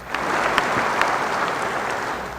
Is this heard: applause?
yes